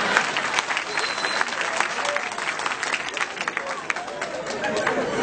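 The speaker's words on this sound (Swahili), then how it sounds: "jipigeni makofi" Loud, sustained applause from a large audience filling a hall at a live event, steady dense clapping throughout with some crowd noise mixed in.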